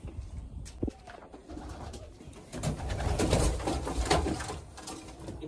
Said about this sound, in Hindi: ये जंगली कबूतर अंदर लोफ्ट में आ गया